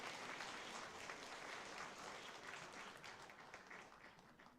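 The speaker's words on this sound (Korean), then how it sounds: "우리 함께 환영의 박수 한번 보내주시기 바랍니다" A Korean church congregation at Sunday worship gives a welcoming round of applause for a returning visitor, a faint, dense patter of many hands that gradually tapers off.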